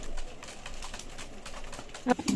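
Pigeons from a flock of around fifty to sixty coo briefly, a short low burst near the end over faint background noise and soft household sounds.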